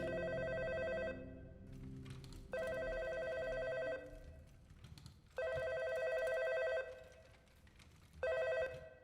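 A telephone rings in the video game Back Then, four electronic bursts with pauses between them, clear and close with a low ambient hum underneath.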